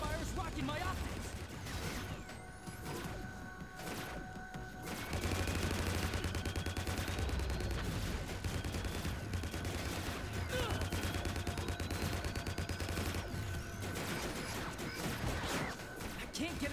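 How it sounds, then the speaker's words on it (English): Rapid turret gunfire and explosive blasts from the Transformers Cybertron Adventures video game pound continuously, loud and dense, with someone talking over the barrage throughout. "That turret fire is rocking my optics."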